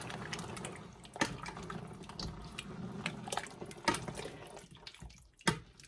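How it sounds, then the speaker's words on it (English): Ravioli soup bubbles in a pot on the stove, a continuous wet burble with scattered pops and splashes, fairly close and moderately loud with no talking. "I'm going to let this boil, like I said, for about 5 minutes"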